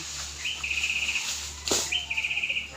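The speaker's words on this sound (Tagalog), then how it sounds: "May extra pang ibon" Two bursts of high, rapid chattering bird calls ring out against a quiet outdoor background after rain, one after the other.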